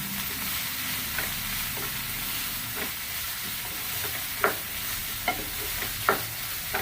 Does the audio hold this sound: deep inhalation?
no